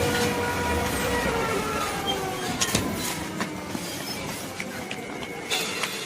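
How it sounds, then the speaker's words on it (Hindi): The Bhubaneswar Puri Express passenger train rolls along steadily, a continuous loud rumble and rattle of carriages with occasional wheel clacks and faint squeals, heard from on board. "नोआ दो ना भुवनेश्वर पुरी एक्सप्रेस कना"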